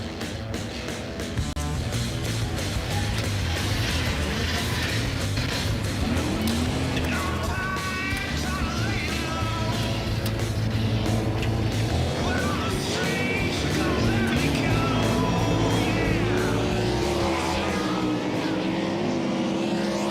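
World of Outlaws sprint cars lapping a dirt oval speedway in a practice session, loud continuous engine roar with rising and falling pitch sweeps as cars pass, a commentator talking over it.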